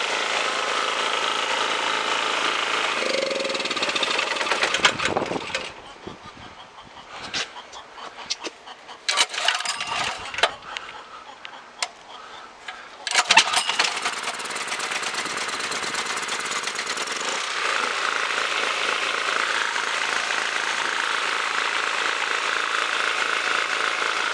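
A small portable generator fitted with a brand-new carburetor idles in a steady, close hum, breaking into intermittent clattering and knocks midway before the even running resumes.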